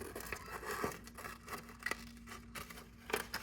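Scissors cut through folded paper in short, close snips and rustles, with a few sharper crisp cuts scattered through a soft crinkling background.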